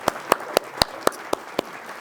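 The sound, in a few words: audience applause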